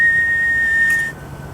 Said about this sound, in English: The annoying whistle,